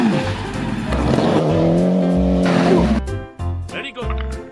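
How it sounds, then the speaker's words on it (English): A toy rally car makes loud racing-engine and tire-squeal effects, a sustained revving whine for a few seconds that then breaks into choppy bursts, close and prominent. "This is a kind of rally car."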